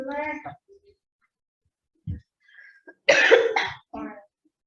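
A few separate coughs with quiet gaps between them, close to the microphone, and brief bits of speech around them.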